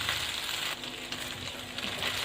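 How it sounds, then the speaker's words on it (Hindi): Chicken frying in a pan for schezwan soup, a loud, continuous hissing sizzle with faint stirring scrapes, heard close up and with no one speaking. "4 से 5 मिनट के लिए मैंने चिकन को फ्राई कर लिया है"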